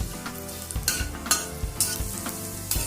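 Goitha gundi pitha fries until golden brown, a continuous sizzle broken by several sharp scrapes and clinks as it is stirred and turned in the pan.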